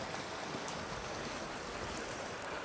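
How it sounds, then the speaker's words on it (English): Water trickling and spattering onto rock inside an Arizona canyon, spilling off the top and sprinkling down, a steady broadband wash with no pauses and no voices. "the water is coming off the top, and then it sprinkles"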